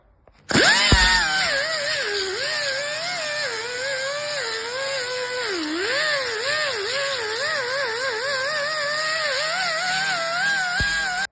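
A power tool runs steadily to clean surface rust off the chassis of a 1962 VW Karmann Ghia. Its loud, continuous whine starts abruptly and wavers in pitch as it presses on the metal, then cuts off at the end.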